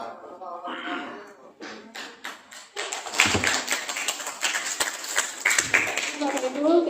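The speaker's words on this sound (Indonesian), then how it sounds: "kita berikan tepuk tangan yang paling meriah sekali lagi untuk narasumber kita" An audience applauding a speaker at an Indonesian gathering, scattered claps growing into steady loud applause, with a voice talking over it at the start and end.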